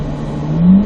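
A car engine on a racetrack drones steadily, then rises in pitch and loudness as it pulls through a gear change into fourth, a brief continuous revving swell.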